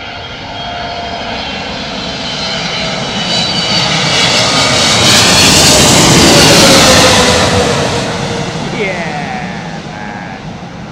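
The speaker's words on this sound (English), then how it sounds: "This is the Korean jet." A Korean jet airliner arriving to land roars steadily overhead, its engine noise swelling to a loud peak mid-pass before slowly easing away, with a faint whine of turbines in the wash.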